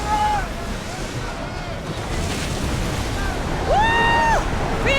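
Wind and waves rush steadily around a sailing ship at sea in Assassin's Creed Odyssey, loud and close, with voices and shouting over the continuous roar.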